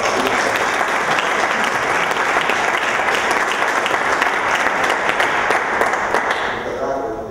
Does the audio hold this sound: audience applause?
yes